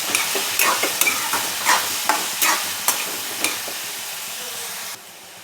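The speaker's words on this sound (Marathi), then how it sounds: "छान हलवून घ्यायचं" Peas and potatoes with turmeric and salt are stirred in a sizzling pan, the spoon scraping in a quick rhythm of close strokes over a steady frying hiss that stops abruptly.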